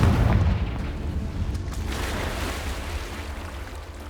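A Confringo fire spell explosion in the Hogwarts Legacy video game, a loud deep boom that opens the moment and decays into a rumbling, noisy roar for several seconds, with no speech.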